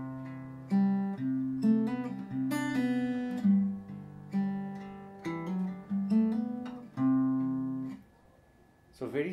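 On fingerstyle acoustic guitar, the intro of a song is played slowly, with hammer-ons linking the notes. Clear, close plucked notes ring out one after another in an unhurried melodic line with no talking.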